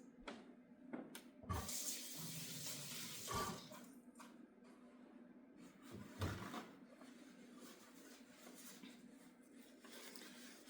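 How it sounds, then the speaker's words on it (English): Tap water runs steadily into a kitchen sink as hands are washed, close and fairly quiet, with brief clunks and splashes breaking the flow and no talking. "let's wash our hands"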